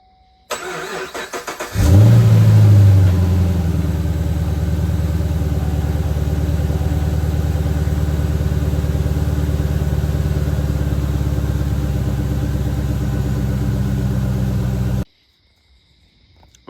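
A 2011 Camaro SS V8 cranks and catches after a brief starter whir, then settles into a loud, steady, rumbling idle close by for over ten seconds before cutting off abruptly, at night.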